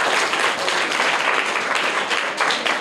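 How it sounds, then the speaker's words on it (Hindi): Audience applause for a child who answered a quiz question correctly, dense continuous clapping from a crowd, loud and even throughout. "इनके लिए जोरदार तालियां हो जाए"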